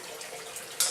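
Water flowing down over the grate of a parabolic filter at an aquaponic urban farm, a steady close hiss of running water with a brief louder splash at the end, without talk.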